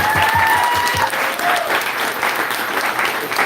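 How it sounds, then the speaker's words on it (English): Crowd at a campaign-style town hall in New Hampshire applauds a teacher, a loud, sustained wash of clapping from many hands with faint voices and a few whistles mixed in. "let's give her a round of applause for teaching our kids."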